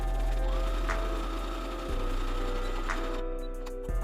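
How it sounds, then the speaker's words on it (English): Sewing machine stitching darts on a Yoshi plush toy, a steady mechanical whir that pauses briefly and restarts, close and constant with no talk. "Start by sewing all the large darts around the whole nose piece."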